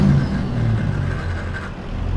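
A simulated truck engine in American Truck Simulator drones low and loud, dipping and rising in pitch as it drops a gear, with no voices over it.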